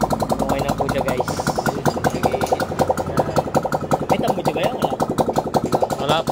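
Honda Click 150 scooter engine running at idle after a top overhaul, a steady close putter with rhythmic pulses throughout, with a voice talking over it.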